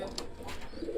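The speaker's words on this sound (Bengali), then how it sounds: "মাশাল্লাহ কোয়ালিটিফুল কবুতর।" A Cobra teddy pigeon pair gives soft, low cooing, a steady murmuring coo running through the whole moment with a few faint higher chirps, close by and without talk.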